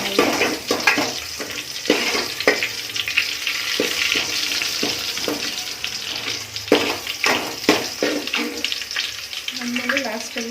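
A Kannada-style tempering for radish sambar, with fresh greens, is fried and stirred in a pan, giving steady loud sizzling crackle with repeated scraping strokes throughout.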